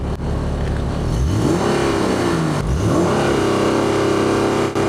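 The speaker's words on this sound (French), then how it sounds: "on va juste donner quelques petits coups d'accélérateur" A car engine revs close by as the accelerator is tapped, giving a few rising, falling surges over a steady idle, loud and alone.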